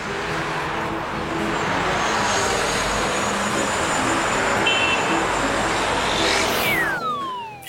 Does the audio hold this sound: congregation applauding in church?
no